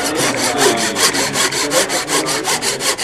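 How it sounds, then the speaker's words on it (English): Fine razor saw cutting wood on a shooting board while a mitered joint is made, with steady, rapid back-and-forth strokes, close and loud, about a dozen even strokes with no talking. "This is just a razor saw. It's very, very fine."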